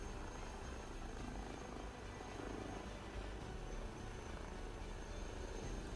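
A Huey helicopter in Microsoft Flight Simulator 2024 flies with a continuous, steady rotor-and-engine drone that stays level throughout and is heard alone.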